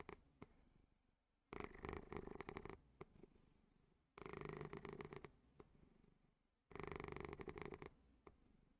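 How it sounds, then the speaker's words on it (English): Close, rumbling cat purring in three long rhythmic bursts, each a couple of seconds, separated by quiet breathing pauses. "Oh, you can definitely hear him purring."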